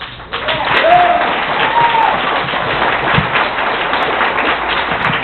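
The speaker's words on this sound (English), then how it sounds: "Big round of applause." Wedding reception guests give a big round of applause, dense and steady clapping from a crowd indoors, with a brief whistle and some cheering mixed in over a constant crowd roar.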